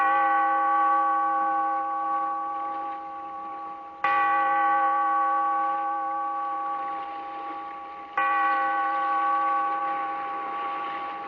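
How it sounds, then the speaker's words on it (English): A bell tolls three times at a steady pace, each strike ringing with a rich, sustained metallic tone that slowly fades before the next stroke. The sound is heard alone, with no voices. "Bellkeeper, toll the bell"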